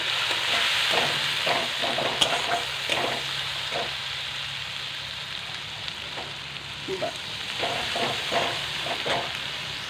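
Ginger garlic paste and turmeric sizzling in hot oil in a frying pan, a steady close hiss with scattered crackles and soft stirring scrapes, no voices.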